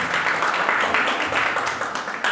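An audience at a university speech competition claps steadily throughout, a dense, even wash of applause from many hands with no pauses.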